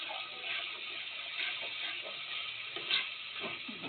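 Cumin and coriander powder spices fry in a pan for a cauliflower kosha, a soft, steady sizzle with faint stirring underneath.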